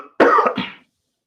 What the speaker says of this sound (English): we're coming up on the cough on this one